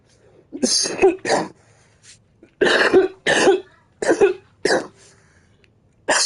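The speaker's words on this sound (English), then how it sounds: "I'm coughing and hacking." Harsh, repeated coughing and hacking from one person, close to the microphone, in bursts of two or three separated by short pauses.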